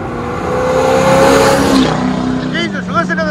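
A modern Ford Mustang GT roars past at full throttle, its engine note climbing loud and close before dropping away as it passes, with people cheering and shouting over it.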